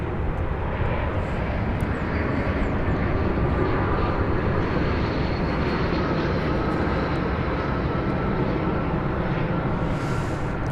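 American Airlines flight 1567, an airliner arriving from Atlanta at DFW Airport, sends out a loud, unbroken jet engine roar that stays level and close throughout, with no voices over it.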